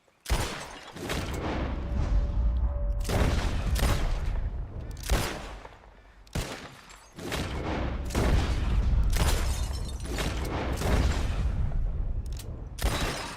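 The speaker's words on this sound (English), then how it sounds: "Who can shoot the most bottles? Just draw your gun and aim when you're ready, all right? Shoot!" Repeated gunshots in Red Dead Redemption 2 as players fire at bottles in a shooting contest, a dense run of loud cracks in bursts with short pauses between volleys.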